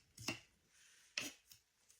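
A knife chopping slaw vegetables, probably cabbage, on a board: two sharp chops about a second apart followed by lighter taps, close and quiet with no talk.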